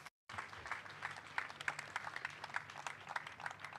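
A church congregation applauds at a worship service, a dense wash of steady clapping that starts abruptly after a short silence and keeps going at an even level.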